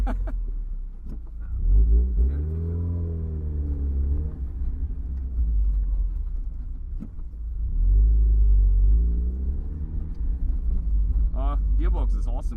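A modified Mazda MX5 NA Miata's engine drones while driving, rising in two revving swells between gear changes, heard from the cabin with a person talking over it.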